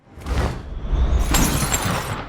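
A layered crystal-rain effect blending shattering glass and thunder, heard as a dense, loud rush of glittering breakage over a low rumble, with a bright burst of shards midway that keeps pouring to the end.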